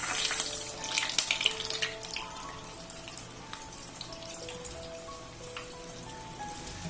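Cheese-stuffed cassava dumplings filled with mozzarella fry in hot oil, giving a continuous crackling sizzle with busier popping bursts in the first couple of seconds before settling into a softer, even bubbling.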